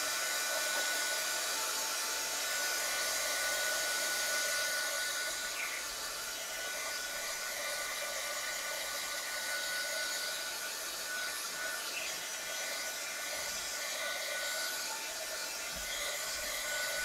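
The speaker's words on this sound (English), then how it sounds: "So I'm gonna hit this with my dryer a little bit" A hair dryer blows steadily and loudly on wet paint, a continuous broadband whoosh holding even for the whole stretch with no talking.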